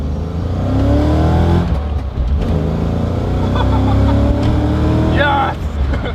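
Loud, close V8 of a Fox Body Ford Mustang race car with a 5.0 liter engine, revving and accelerating in long rising sweeps that drop back between pulls, with a voice talking over the engine.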